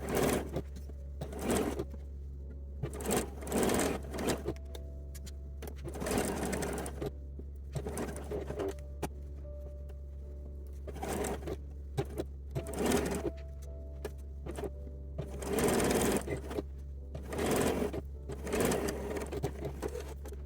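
Sewing machine basting a seam on a lingerie teddy, running in repeated short bursts of rapid stitching separated by pauses, close, over a steady low hum, with faint pigeon coos in the background.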